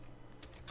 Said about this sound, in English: Whoops, I suck at typing.